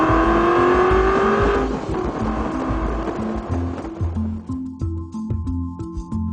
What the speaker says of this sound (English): Plus, you'll be able to hear more of that excellent V8 engine noise.